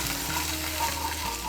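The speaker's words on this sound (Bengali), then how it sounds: "এখন এর মধ্যে দিয়ে দেবো সামান্য একটু জল।" Fried ginger paste and green chili paste sizzle in a pan as a little water is added, a dense close hissing crackle that runs unbroken for the whole moment.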